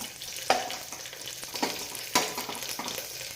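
Chopped onion with turmeric and chili powder frying in coconut oil inside a pressure cooker, sizzling steadily up close, with a few sharper crackles and stirring scrapes along the way.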